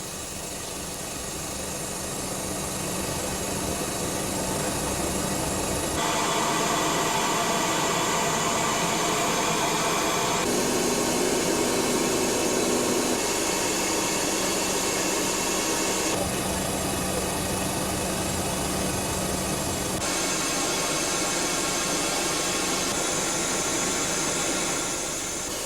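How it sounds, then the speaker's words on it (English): Four engines of an Antonov AN-124 transport aircraft throttling up for takeoff, a loud, steady broadband roar that holds for the whole stretch with slight shifts in tone as the power comes up. "pilot Konstantin pushes the throttles for the 4 engines slowly forward."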